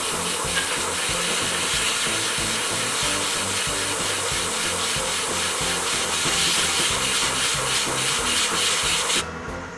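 A hair dryer blows steadily close by, drying Tamiya X18 paint on a Yamaha YZF R1 scale model, a loud continuous airy whoosh with a faint rhythmic rubbing texture that stops abruptly near the end.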